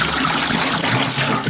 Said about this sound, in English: Put a couple gallons of warm water in there.